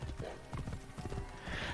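Horse hooves clip-clopping in Assassin's Creed Origins, a quick, close rhythmic run of hoofbeats with a whinny near the end, fairly quiet.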